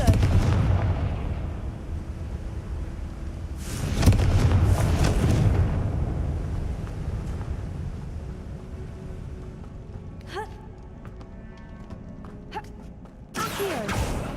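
Fire spell blasts in the video game Hogwarts Legacy: heavy booming explosions burst loud at about four seconds and again near the end, with a rumbling wash and softer magical effects between them.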